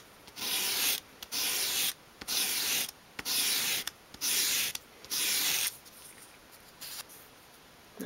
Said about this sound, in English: with your sandpaper flat on your work surface, take the moulding, hold it at a 45 degree angle, and just sweep it towards you